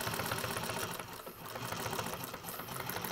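A sewing machine runs steadily while stitching a bowler bag, finishing with a backstitch; a continuous, close, mechanical whirr that dips briefly about a third of the way through, then resumes at full pace.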